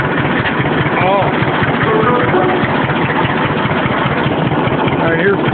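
A 1947 John Deere Model D tractor engine runs steadily with a little more throttle, a close, continuous chugging drone under a man's speech.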